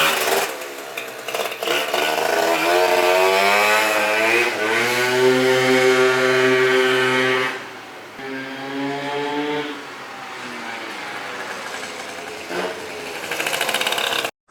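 A Polini-kitted Yamaha Zuma 70cc scooter engine runs loud and close, its buzzing two-stroke pitch climbing as it revs, then settling to a steadier, lower idle while warming up.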